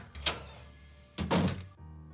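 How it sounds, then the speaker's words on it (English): Doors slam in a Nancy Drew haunted mansion game: two heavy thuds about a second apart, the second longer and fuller, each with a short muffled echo over a quiet room tone. "Those door slamming sounds are really something else"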